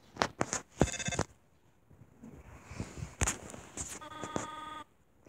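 Cell phone ringtone in the Undertale video game, bursts of bright electronic chirps and rings repeating in short clusters, with quiet background noise between them.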